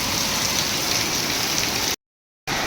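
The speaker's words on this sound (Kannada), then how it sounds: "ನೋಡ್ರಿ ಮಳಿ ರೀ ಇದೇನು ಬಿಡುವಂಗಿಲ್ಲ" Steady rain falls nonstop onto surfaces, a dense, even hiss that stays close and constant, then cuts out abruptly for a moment before resuming at the same level.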